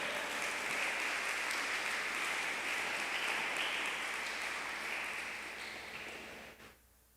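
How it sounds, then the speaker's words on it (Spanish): A church congregation applauding, with dense, steady clapping that fills the space for several seconds, then tapers off and stops abruptly near the end. "¿Cuánto le dan un aplauso al Señor?"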